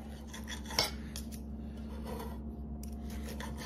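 Cutlery scrapes and saws into a pork steak on a plate in a hotel room, a soft, close rasping with one sharp clink early on over a steady low background hum.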